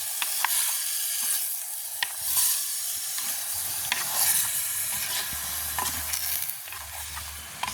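Chicken pieces are tossed with onion and green chilli in a hot pan in a village kitchen. A utensil scrapes and stirs in repeated strokes over a steady close sizzle of frying.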